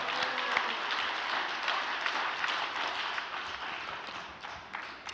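A congregation gives a big round of applause after a sermon by Lee Ki-seong, head of Cheonsimwon, at a religious service: dense, steady clapping from many hands that holds for several seconds and then slowly thins.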